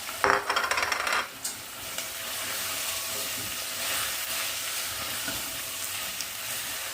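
Zucchini and peeled fava beans sautéing in a pot are stirred, a brief clattering scrape up front giving way to a steady, soft sizzle that continues alone, close and moderately quiet.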